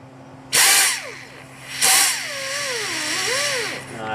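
A power drill bores out a broken exhaust manifold stud, two short bursts of high whining drilling with the motor pitch sweeping up and down as it spins, close and loud.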